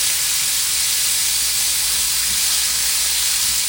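Ham warming in a pot on the stove as a Southern-style cabbage dish is prepared, giving a steady, loud steam hiss that holds unbroken throughout with no talking.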